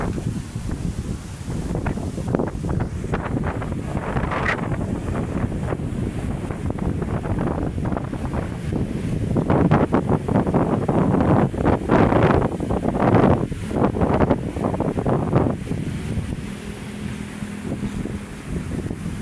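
Strong waves churning along Manila Bay, a steady broadband roar of surf and wind buffeting the microphone throughout, with surges of crashing water swelling louder midway; a faint voice is briefly heard near the end.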